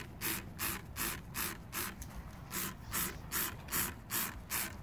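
A hand sprayer mists insecticide over vegetable beds on a farm in Finland, faint rhythmic hissing bursts roughly every half second with soft pumping clicks between them.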